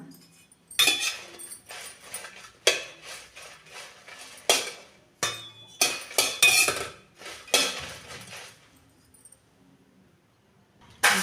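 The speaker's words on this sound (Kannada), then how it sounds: "ಇವಾಗ ಮೆಣಸಿನ್ಕಾಯಿ ಚೆನ್ನಾಗಿ ಹುರ್ಕೊಂಡೆ" Dry red chillies roasting in a pan without oil for sambar powder give repeated sharp metallic clinks and scrapes of a utensil against the pan, irregular and close, and no one talking.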